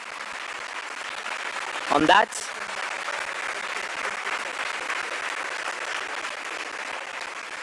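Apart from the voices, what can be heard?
audience applause at conference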